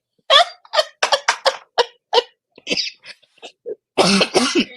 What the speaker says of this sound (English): Oh, my evil hack led me into a coughing fit.